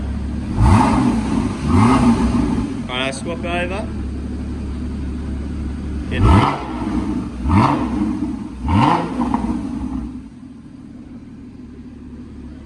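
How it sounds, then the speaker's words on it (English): Porsche 981 with a retrofitted Porsche sports exhaust, set to the quiet position, idling steadily and then blipped in several short revs, the engine rising and falling close by, with a brief spoken remark between revs. "Give it a little rev. Bit more"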